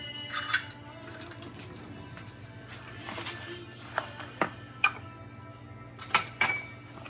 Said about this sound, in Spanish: Ahora vamos a mezclar